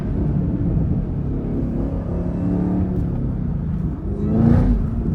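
Chevrolet Camaro ZL1 1LE with a manual gearbox, its engine rumbling steadily from inside the cabin while driving, swelling briefly near the end as it pulls harder.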